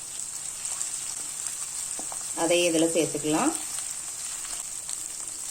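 Ground dried red chili powder and spices sizzle steadily in hot oil in a pan for masala pasta, a close, continuous frying hiss while someone speaks briefly over it.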